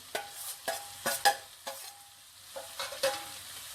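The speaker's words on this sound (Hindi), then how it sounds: "अब मैं इसमें भिंडी डाल रही हूँ।" Okra tossed into a pan of soft cooked tomato masala, sizzling as a spoon stirs it in repeated scraping strokes, close and clear with no talking.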